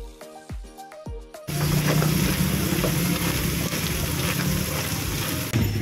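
Seasonings of rock salt, MSG, paprika and cracked pepper for palabok, stirred in a hot pan, a dense steady sizzle that starts abruptly after a few plucked musical notes.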